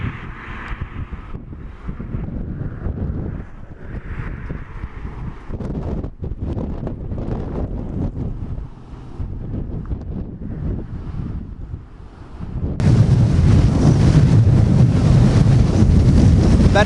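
A strong windstorm buffets the microphone in heavy, uneven rumbling gusts that rise and fall, then swell into a louder, sustained roar near the end.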